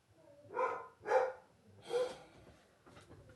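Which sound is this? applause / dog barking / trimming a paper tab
dog barking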